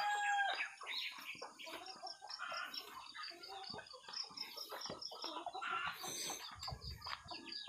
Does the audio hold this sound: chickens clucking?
yes